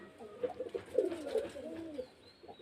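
Pigeons kept for sale in a loft coo in soft, overlapping throaty rolls, fairly faint and close, with a few brief chirps and a thin background whine.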